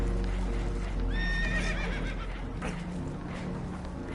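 A spooked horse on a boat in a PS4 video game whinnies once, clear and fairly close, over steady low rumbling background noise with faint hoof clops.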